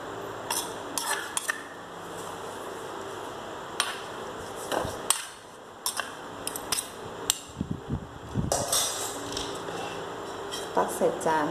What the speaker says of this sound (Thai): ตักใส่จานจ้ะ